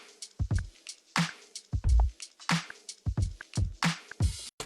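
A drum loop sample from Splice plays a steady groove of punchy kicks and crisp snare and hat hits, repeating in a tight rhythm with no voices.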